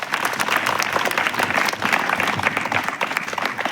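A crowd claps steadily and densely throughout, a sustained wash of applause in welcome at an indoor gathering, with no voices rising above it.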